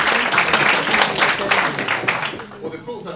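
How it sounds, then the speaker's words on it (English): Brief burst of audience applause at an art museum exhibition opening, uneven clapping at close range that tapers off, with a voice faintly beginning over it. "the applause actually, of course, isn't for me"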